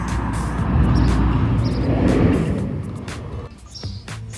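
A car passing by outdoors, a broad low rumble swelling and fading over a few seconds, with faint bird chirps above it.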